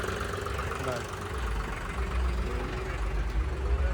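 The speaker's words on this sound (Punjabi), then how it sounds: "ਇੱਕ ਵਾਰ ਅੱਗੇ ਪਿੱਛੇ ਕਰਕੇ ਦੇਖ ਬਾਈ ਟਰੈਕਟਰ" A 1995 Swaraj tractor engine runs steadily at close range, a low continuous rumble with a faint knocking beat, while muffled voices talk over it.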